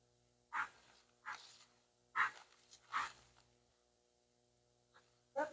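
A female dog out for a walk to a river, straining constantly against her leash, gives heavy breathy pants in spaced bursts, close and fairly quiet against a calm outdoor background.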